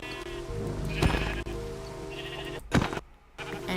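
Sheep bleat several times in a video game, with a few calls rising over busy game sound effects and short thumps.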